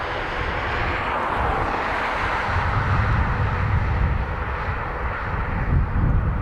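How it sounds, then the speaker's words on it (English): A KLM Martinair Boeing 747 at Dublin Airport produces a steady, rumbling jet roar, loud and sustained throughout with no voices over it. "KLM, Martin Air, I presume, 747."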